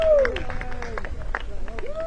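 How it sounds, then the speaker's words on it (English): Spectators at the Bowls Scotland National Championships on an outdoor green break into brief scattered clapping and cheering, mixed with a whistle-like tone and nearby commentary voices. "And the crowd goes wild."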